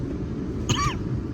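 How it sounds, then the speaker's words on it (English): A man gives a single short, gruff cough to clear his throat, close to the mic, over a steady low train rumble. "Clear my throat."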